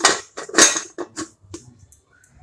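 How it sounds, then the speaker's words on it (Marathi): Several sharp metallic clanks and scrapes of a pressure cooker lid being fitted and locked, close up, then a few faint clicks. "कुकरचं झाकण लावून शिट्टी काढून घेऊ आपण"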